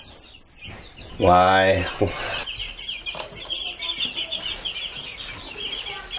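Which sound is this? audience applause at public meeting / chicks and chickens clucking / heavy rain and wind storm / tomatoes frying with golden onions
chicks and chickens clucking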